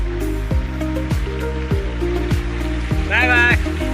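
Heavy rain falls outdoors in a steady, dense hiss, with voices talking over it and a run of regular dull thumps.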